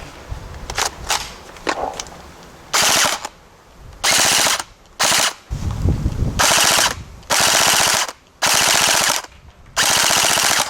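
A CP AK74M gel blaster firing without hop-up, loud close bursts of rapid motor-driven shots, first a few short stutters, then several longer full-auto strings separated by brief pauses, with no talking.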